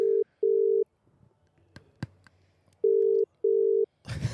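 Outgoing telephone ringback tone while a call waits for an answer: steady electronic beeps in two pairs separated by a quiet gap with faint clicks, ending in a burst of noise.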